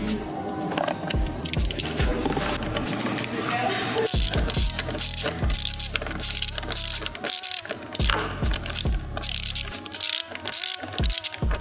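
Ratchet tightening bolts that mount paddle shifters and volume controls onto a carbon fiber steering wheel for a 2016–2023 Camaro, repeated quick clicking bursts up close, alternating with brief pauses and handling noises.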